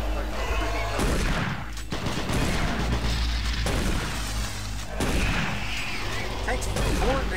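Shotgun blasts in the video game Doom 3 BFG, several loud booming shots spaced a second or two apart amid game noise, with a player's voice reacting over them.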